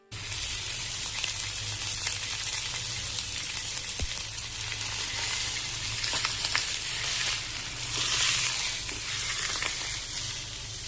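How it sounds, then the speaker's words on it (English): A whole chicken browns in a hot pan, giving a steady, close sizzle and crackle of frying with faint stirring shifts, continuous throughout with no talking. "I'll brown it on this side. At the sides, we want all the sides to be browned."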